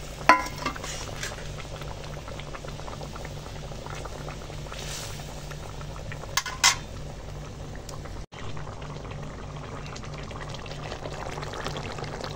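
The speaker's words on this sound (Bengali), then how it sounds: "এখন ঝোল ফুটছে" Fish curry broth bubbles at a rolling boil in a pot, a continuous close simmering hiss with a few sharp clinks near the start and middle, and no talking.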